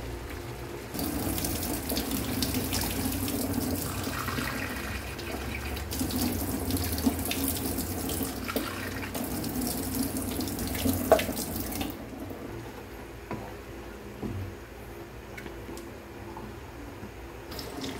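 Water is poured into a pan of pork for binagoongan, producing a steady, close rushing splash that holds for many seconds and then eases into a quieter, continuous wash.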